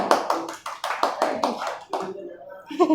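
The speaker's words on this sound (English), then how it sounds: "Clapping for her." People in a coaching class clap for a returning former student, a brief run of close, fairly loud hand claps at an uneven rhythm that thins out, with voices speaking near the end.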